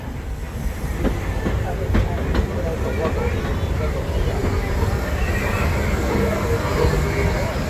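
A Magic Kingdom railroad train rolls steadily along its track, a continuous rumble with faint clicking wheels and hiss, while a recorded announcement voice speaks over the running noise throughout.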